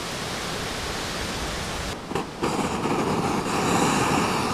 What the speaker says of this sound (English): I can hear a big gust coming.